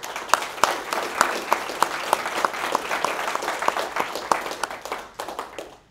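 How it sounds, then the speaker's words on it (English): An audience at a game-development capstone presentation gives a round of applause, with many hands clapping in a steady, moderately loud patter that thins out and fades in the last second. "I wanted to give a huge round of applause to her."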